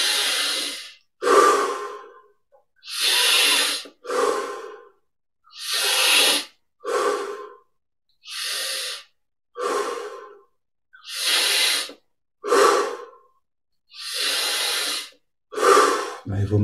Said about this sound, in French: Une 10 grandes respirations de plus, en amenant plus d'air à chaque fois.